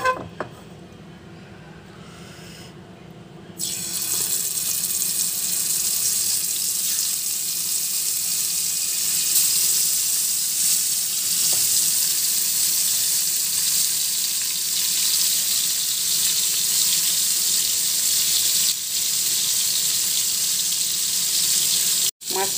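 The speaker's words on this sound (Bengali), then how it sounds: "মাছটা ভাজা হয়ে গেছে, কড়া করে ভেজে নিয়েছি" Fish frying crisp in hot oil in a pan: a soft start, then a loud, steady sizzle and crackle that runs nearly twenty seconds, close and unbroken, with no voices.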